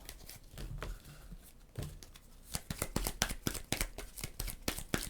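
Playing cards for the Flatiron board game being shuffled by hand, a close run of rapid papery riffles and crisp flicks that builds into dense rhythmic bursts over a few seconds, with no talking.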